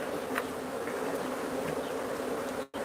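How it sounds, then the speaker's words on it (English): Dense, steady buzzing of many bees around a 20-year-old hive, a continuous close drone that holds level throughout before a brief dropout near the end. "Look at all the bees in the windows."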